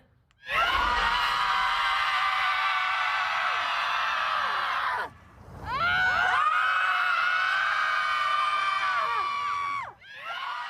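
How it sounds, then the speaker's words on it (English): A group of about twenty moms in an open field scream together in long, loud sustained bursts, two main waves separated by a brief pause, with a third starting at the end. "A group of 20 Boston moms were so exhausted by the pandemic, they met in a field to scream it out."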